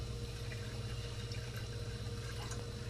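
Two cups of water pour steadily into a roux in a cooking pot, giving a faint, continuous liquid rush over a low background hum.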